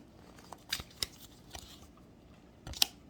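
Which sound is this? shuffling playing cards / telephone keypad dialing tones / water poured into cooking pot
shuffling playing cards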